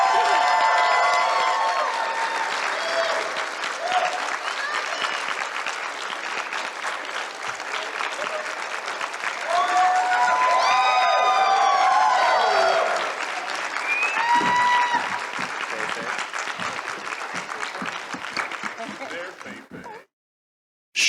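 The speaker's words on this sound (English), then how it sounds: "Give them a round of applause." A convention audience at a Cowboy Bebop panel applauds voice actors taking the stage, sustained loud clapping with cheers and whoops mixed with crowd voices, then an abrupt cutoff.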